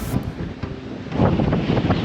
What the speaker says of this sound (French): il y a un vent tellement fort que ça secoue complètement le camion sur les amortisseurs